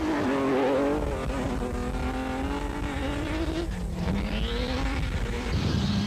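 A South African Nissan Hardbody races in the 2003 Nissan Dealers 400 rally, its engine droning loud and close, rising and falling in pitch as it accelerates and shifts, with tyre and gravel noise underneath.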